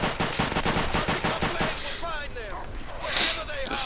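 Rapid automatic gunfire from a favourite weapon in Call of Duty: World at War, a fast, even stream of close, loud shots for about two seconds, then a quieter stretch with someone talking over game sounds.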